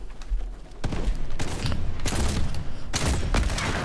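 Rapid bursts of gunfire from a shooter video game, with loud cracking volleys repeating through the stretch over a steady dense background.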